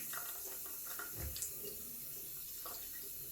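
A faucet runs in a sink as a Japanese kamisori straight razor is rinsed under the water, a quiet steady hiss with brief soft splashes and a low knock near the middle.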